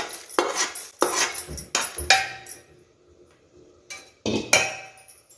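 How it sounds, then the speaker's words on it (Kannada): Fried ingredients for banana flower chutney tipped into a steel mixer jar, heard as a run of sharp metallic clanks and scrapes close by, several distinct hits followed by a quiet gap and two more knocks. "ಇದು ಒಂದು ಜಾರಿಗೆ ಇದನ್ನು ಹಾಕ್ತಾ ಇದ್ದೇನೆ ಫ್ರೈ ಮಾಡಿದ್ದನ್ನು"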